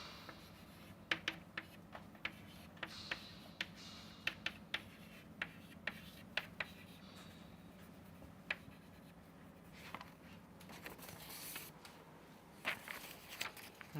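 Chalk or pen taps and scratches out an equation on a board during a machine-learning lecture, making a string of faint, sharp clicks spaced through a quiet room hum, with no talk.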